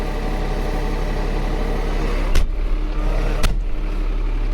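Farm tractor engine idling steadily at close range, a constant low rumble with two brief sharp knocks or clunks breaking through near the end.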